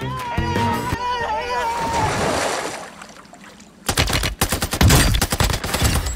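Rapid bursts of TAC-V gunfire in a first-person shooter video game ring out loud and close in the last couple of seconds, after a stretch of music and softer game sounds.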